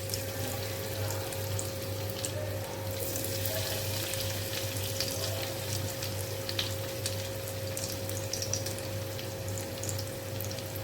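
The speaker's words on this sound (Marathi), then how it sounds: "तेल गरम झालं आहे, तर आपल्याला त्याच्यामध्ये ही टिक्की फ्राय करून घ्यायची आहे।" Soya tikki frying in hot oil in a kadhai, a faint, even sizzle with crackling bubbles throughout and a steady low hum in the background.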